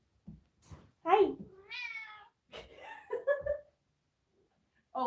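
A pet cat meows in several short, close calls, some drawn out and wavering, mixed in with a person's voice and light laughter nearby.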